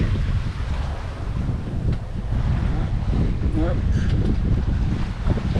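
Wind roars steadily across a microphone aboard a sailboat at sea between Puerto Rico and Nassau, blowing at 13-18 knots; a continuous, close, buffeting rush with low rumble throughout.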